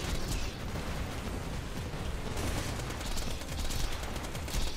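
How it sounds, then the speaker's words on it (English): A slag assault rifle fires in Borderlands 2, with dense, continuous automatic fire over loud game effects that never let up. "I have my slag assault rifle."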